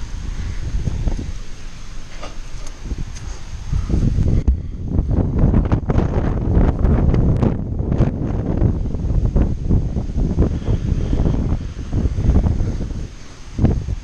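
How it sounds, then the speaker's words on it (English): Strong wind blasting across an outdoor microphone, a loud continuous low roar with rustling gusts that surge and ease but keep going throughout. "The wind that day was crazy."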